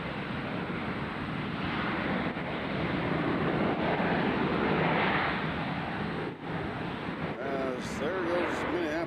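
A Delta airliner departing for Minneapolis at Nashville airport gives a broad, steady roar of jet noise mixed with wind across the microphone, sustained throughout with a brief dip near the end.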